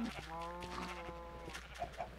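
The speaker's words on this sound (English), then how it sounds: "This is my first wheat farm and food production area, full of animals that are awfully really loud." A noisy pen of farm animals in a video game farm, clucking fowl and bleating, goat-like calls overlapping in a steady murmur of animal noise at low volume, with a constant hum beneath.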